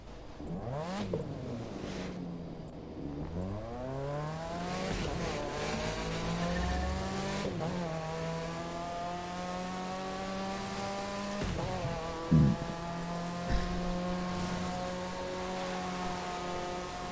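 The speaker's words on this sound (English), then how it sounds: "This Mazda RX-7 is my replacement Supra" A Mazda RX-7 races in The Crew 2, its engine note sweeping up and down through repeated revs and gear shifts, loud and close throughout, with a brief thump and tire squeal near the end.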